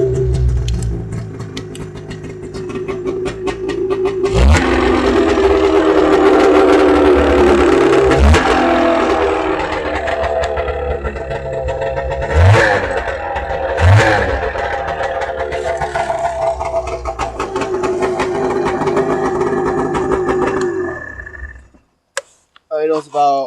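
Snowmobile engine, a two-stroke fitted with a Polaris Indy 500 coil, idling steadily with a few revs and ticking mechanical noise running through it, loud and close before cutting out near the end.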